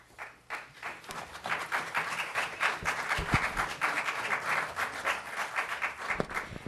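Audience applause at a Placerville city council meeting, a steady wash of many hands clapping at close range that swells quickly and holds for several seconds without talk.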